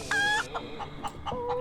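A chicken in the game Breathedge lets out a squawking cry and then a run of short, rhythmic clucks, close and clear with no talking.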